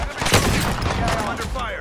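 Video game gunfire crackles as a dense, unbroken barrage of overlapping shots, loud and close, with a voice talking over it.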